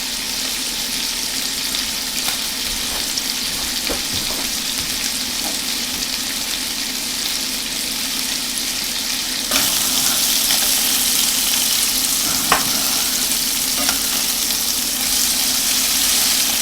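Chopped chicken fries in a hot pan with a steady, even sizzle throughout, growing slightly louder partway through, with occasional faint clicks of a utensil.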